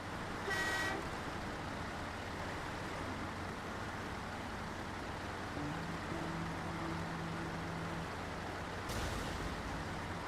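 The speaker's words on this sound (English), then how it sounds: "Honk honk." A truck horn in the SnowRunner off-road driving game gives two short toots, one near the start and one near the end, over a low steady engine rumble.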